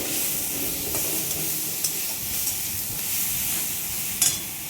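Onion paste frying in a pan for a coconut and ghetkol leaf dish, giving a steady close hiss and sizzle throughout with a few faint clicks of stirring.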